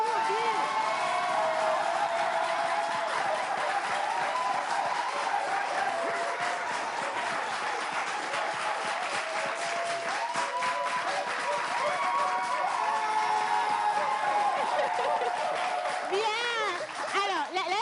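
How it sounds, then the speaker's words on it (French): Audience clapping and cheering for Maria's arrival on a French show, a steady mid-level wash of applause lasting throughout, with talk mixed in. "Est-ce qu'on peut juste applaudir la présence de Maria"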